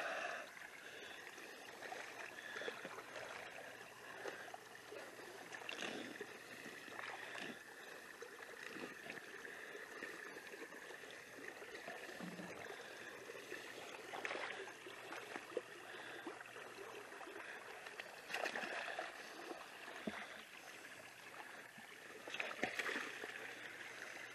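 Water drains across a hard-packed new field, making a faint, continuous gurgle and trickle with occasional soft splashes, heard alone at low level.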